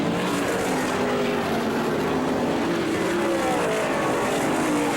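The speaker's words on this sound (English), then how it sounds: "as they come down here side-by-side racing back through" Race cars run side by side on an asphalt oval at a Northeast short-track event, a dense, steady engine roar filling the whole stretch, loud and close with rising and shifting pitches as the pack passes.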